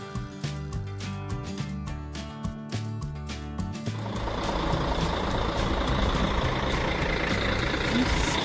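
Beeping from a reversing vehicle sounds outside a hotel in Paris, with a steady repeated beep over engine rumble before a louder, noisier stretch of traffic and bustle, and voices in the background.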